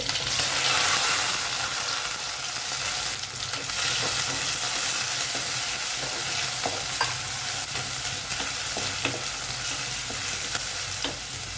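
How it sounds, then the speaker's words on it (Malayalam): Chopped shallots fry in oil in a pan with a continuous close sizzle, broken by repeated spatula stirs and scrapes. "ചെറിയുള്ളി അരിഞ്ഞ് വറുത്തെടുക്കുന്നുണ്ട്"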